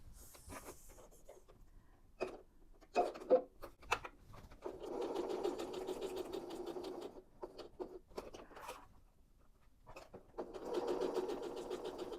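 A domestic sewing machine stitches fabric scraps in two steady whirring bursts, quiet and close, separated by soft handling clicks, rustles and taps of fabric being repositioned.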